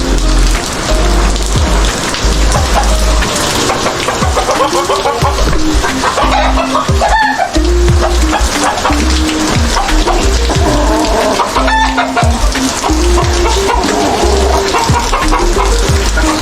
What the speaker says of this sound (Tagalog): Magpapakain po tayo ng ating mga alagang manok.